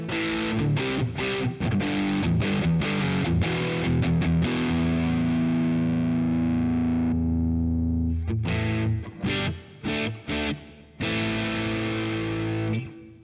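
A Boss Katana MKII guitar amp set to hall reverb: distorted electric guitar chords and single notes played close, with long sustained tails ringing out after each strum and stop.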